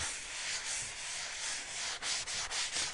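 A wooden apothecary sign board is hand-sanded in short back-and-forth strokes, a close, dry, raspy scratching with brief pauses between passes near the end, heard alone with no talking.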